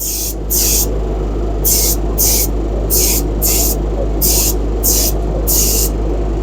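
Cerakote base coat going on from a spray gun, heard as steady repeated hissing bursts, roughly eight even passes over a constant low background roar from an extraction booth pulling overspray.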